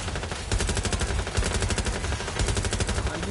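Sustained automatic gunfire in Watch Dogs Legion online, a dense, loud rattling stream of rapid shots with short gaps between bursts, alone and with no voices.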